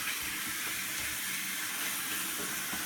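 Water running steadily from a sink tap as an old paint palette is rinsed clean of mould, a continuous close splashing wash with no voices.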